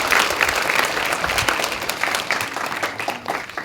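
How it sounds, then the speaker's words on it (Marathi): Schoolchildren in a fifth-grade classroom applauding, a dense burst of close hand claps that continues steadily for a few seconds and tapers slightly toward the end. "टाळ्या वाजवा जरा"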